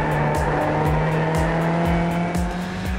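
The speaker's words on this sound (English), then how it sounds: "In the sim, tire noise provides the feedback as to what is happening" A race car in the iRacing driving simulator holds a steady engine drone while its tires squeal continuously, loud and close, no voices.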